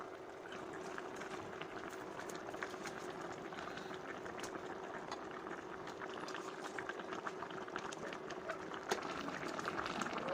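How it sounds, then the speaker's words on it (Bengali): A pot of potato curry broth meant for katla fish bubbles softly at a rolling boil, a faint, even stream of small pops and gurgles with no voices. "এবার বলক আসা পর্যন্ত অপেক্ষা করব।"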